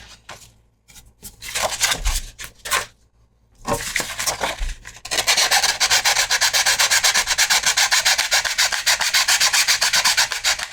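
Rough rasping strokes of hand sanding a plastic armor ab plate, first in short bursts with pauses, then a fast, steady, continuous scrubbing rhythm, close and loud.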